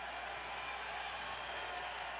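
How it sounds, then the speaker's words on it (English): Crowd noise in a basketball arena during a Missouri State versus SIU college game, a loud, steady roar with some applause filling the space throughout. "The Bears are going to deal with some crowd noise now."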